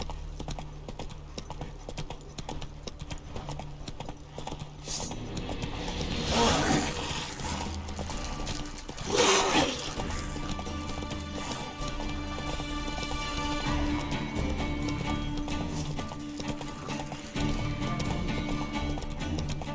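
A horse in The Witcher 3 gallops with rhythmic clip-clop hoofbeats, joined by swells of louder rushing movement and brief whinnies, while game music plays underneath.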